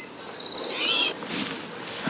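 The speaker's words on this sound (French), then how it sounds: "Ah, ça, c'est le tohi tacheté, c'est la chanson." A spotted towhee sings outdoors, a clear buzzy trill held for about a second at moderate distance, followed by fainter background bird calls.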